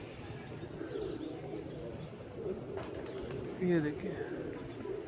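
Pigeons in a large flock coo softly at a loft, with low burbling calls and a brief louder coo near the end under a steady outdoor hum, while someone speaks briefly.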